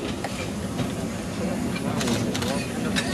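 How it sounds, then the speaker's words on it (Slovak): A historic train pulls in along the track at a reenactment in Nitra, a broad steady rumble with rail clatter and hiss, while someone narrates over it. "Na kolej vchádza historický vláčik, ktorý má predstavovať vlak,"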